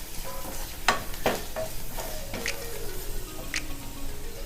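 Potato masala filling for bonda sautéing in a pan: a soft sizzle with quick stirring strokes and occasional sharp clicks of the spoon against the pan, close and without speech.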